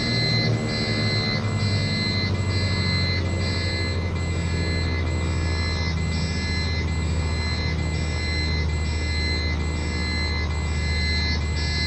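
Landing gear warning horn in Microsoft Flight Simulator 2024, a loud steady pulsing buzz repeating evenly throughout, sounding over a constant low drone of aircraft engine noise, with no talking.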